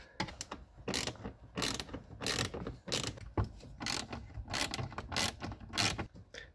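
A ratchet works loose bolts on an interior cover of a 1.8T Audi A6 C5, rapid clicking bursts repeating in quick irregular runs at close range.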